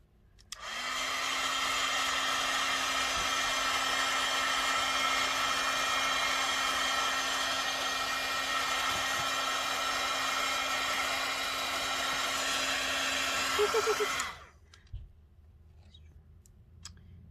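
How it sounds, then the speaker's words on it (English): A heat gun dries a small paper craft, a printable envelope with a mini paper rose, as a steady, close, whooshing blower roar with a faint whine that runs about fourteen seconds and then cuts off, leaving near silence. "And then I'm going to take the heat gun and dry it real quick."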